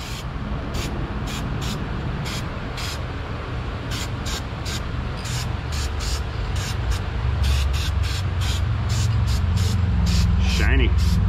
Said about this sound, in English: The spray paint has begun.